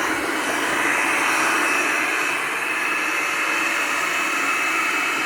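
An overclocked Chinese robot vacuum cleaner, an 11.1-volt unit driven at 20 volts, runs at full speed with a loud, steady, hissing roar that holds evenly throughout, with no talk.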